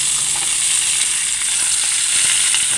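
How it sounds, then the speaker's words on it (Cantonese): Golden threadfin bream frying in a pan, a loud, steady, bright sizzle with crackling spits, close and continuous, with no talking. "好似條魚而家煎到好似好靚咁樣"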